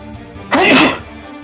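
A single loud, close sneeze bursts out sharply and dies away within half a second, with quiet room tone around it during a tabletop role-playing game session.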